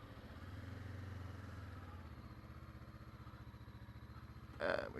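Motorcycles riding through sand, with a faint, steady mid-pitched engine drone and a low rumble early on, ending in a sharp, brief clattering burst near the end.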